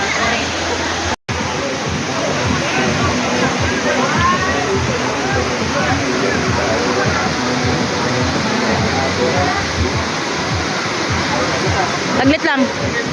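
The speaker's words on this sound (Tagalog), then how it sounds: "The Kawayan Falls." Kawayan Falls pours in a loud, continuous rush of water nearby, a dense steady roar filling the whole stretch with only a brief dropout near the start.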